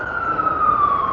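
An ambulance siren wails loud and close while stuck in New York City traffic, a sustained steady tone with a slight downward pitch drift, heard alone.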